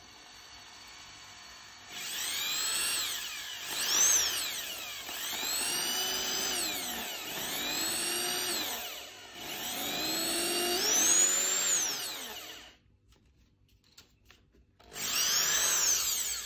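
Drill bores a high A tone hole in a wooden woodwind instrument body, grinding in several sustained passes with rising and falling pitch, separated by short pauses, loud and close with no talking.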